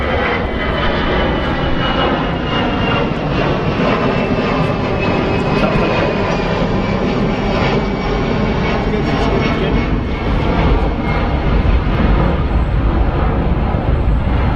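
A Boeing 747 jet at London Heathrow produces a loud, continuous engine roar with a broad rumble that stays strong and steady throughout.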